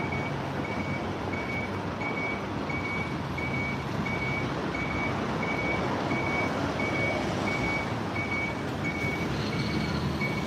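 Police transporter vans, bus-like vehicles on a Tokyo street, reverse with a steady series of evenly spaced warning beeps. The beeps sound over loud, continuous engine and traffic rumble, with no talking.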